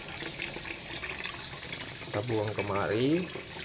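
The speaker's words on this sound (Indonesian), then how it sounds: "kita ambil pipa tuh, kita sambung ke atas dari pompa airnya, langsung kita buang kemari" Water pumped from a fish pond up through a connected pipe and dumped out, a steady rushing flow heard close up, with a voice speaking partway through.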